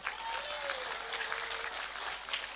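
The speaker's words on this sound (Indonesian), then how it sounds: "Lho tepuk sing banter, gak usah sungkan-sungkan" An audience at an Indonesian religious talk claps loudly and steadily throughout, with dense applause and a faint voice briefly audible underneath.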